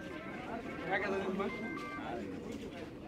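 Pigeons at a busy pigeon market in Bangladesh, soft cooing rising through steady crowd chatter and bargaining voices nearby.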